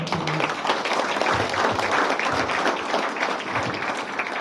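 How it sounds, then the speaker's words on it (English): An audience at a service-dog graduation ceremony claps steadily for several seconds, with dense, continuous applause filling the room. "we can just give Risa a round of applause"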